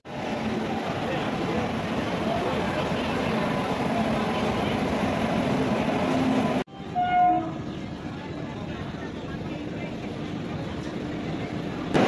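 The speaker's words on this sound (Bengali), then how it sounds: "এই ট্রেনটা আসছে হচ্ছে রাঁচি থেকে, হাতিয়া লোকমান্য তিলক।" An Indian Railways train from Ranchi, the Hatia–Lokmanya Tilak service, rolls into a station platform with a loud, steady rumble of wheels and wagons that cuts off abruptly, followed by quieter station ambience and a brief horn-like tone.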